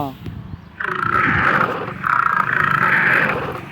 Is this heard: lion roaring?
yes